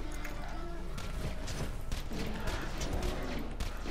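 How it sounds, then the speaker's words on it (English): Explosions and gunfire from the Borderlands 2 shooter game, a dense, continuous barrage of bangs and mechanical clatter at steady loudness, with a voice talking over parts of it. "Yes. Explosions."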